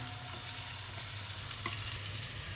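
Roasted urad dal goes into a frying pan for vegetable bhat, a steady close sizzle with stirring and one brief clatter of a utensil against the pan.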